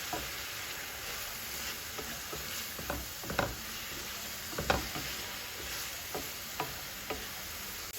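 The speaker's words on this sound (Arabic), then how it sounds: "غادي نبقى نشحر كلشي" Spices and meat sizzle in a pan, a continuous close crackling hiss broken by occasional scraping stirs and clinks of a utensil, with no voices.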